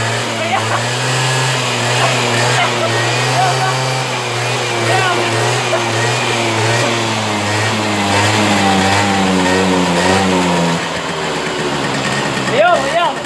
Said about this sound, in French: Vas-y, accélère.